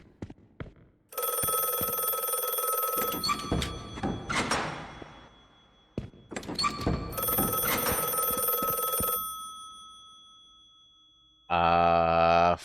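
A telephone rings inside a detective puzzle game set around a mysterious closed asylum, with long electric bell bursts separated by thuds and clicks, then a short different tone at the end; no one speaks.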